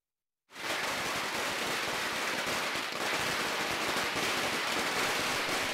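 After a moment of silence, a string of firecrackers bursts into loud, rapid, continuous crackling that keeps going without a break.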